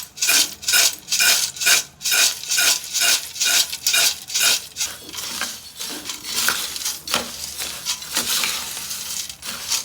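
Avare bele chow chow ingredients with rock salt being mixed by hand, producing a rhythmic series of close rasping, rubbing strokes, about two per second, that loosen into a more irregular scraping toward the end.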